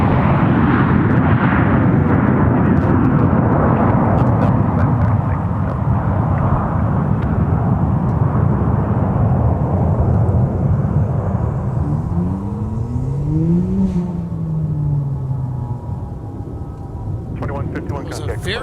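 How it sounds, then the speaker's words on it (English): A Delta A321 airliner lands at Minneapolis–St. Paul airport, a loud sustained roar of engines and rushing air that slowly eases, with a falling engine whine near the end. "It was a very nice landing from that Delta A321."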